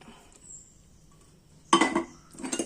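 A steel pan that was used for popping mustard seeds for a coconut-ground tomato curry is rinsed, with two short bursts of clattering and clinking utensil sounds after a quiet stretch.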